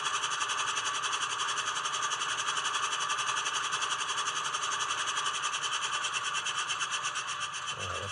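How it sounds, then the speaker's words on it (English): A Scaletrains HO scale GE AC44C6M locomotive in NS primer plays its air compressor sound, a steady rhythmic chugging hiss that pulses evenly and continuously before cutting off at the end. "There's the compressor."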